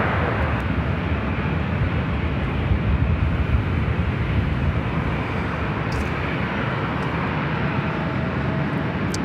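Heavy jet airliner on approach to land on runway 24 right at Los Angeles International Airport, a steady, loud broadband engine roar that holds throughout with no talk.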